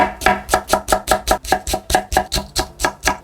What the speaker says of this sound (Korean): 대파 한 10cm 정도 되는 것 같아요. 이것도 송송 썰어주세요.